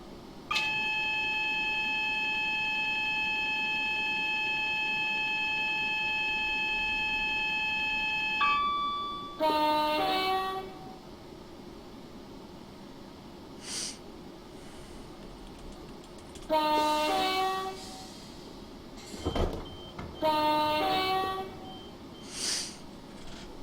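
Class 378 train doors open in a Train Simulator game on the South London Network. A long steady multi-tone warning sounds first, then short repeated beeping chimes at intervals over a low background hum.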